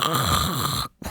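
A human voice imitating a bulldog snoring: one rough, rattling, throaty snort lasting about a second, close and fairly loud, cutting off abruptly with a brief gap and a short restart at the end.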